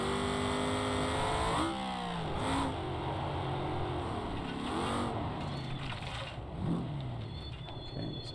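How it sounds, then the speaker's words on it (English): Default car in the BeamNG driving game, engine revving up and down repeatedly across several pitch sweeps, loud and close, with steady road and engine noise and no speech. "every car you get into, the engine's just a little bit different"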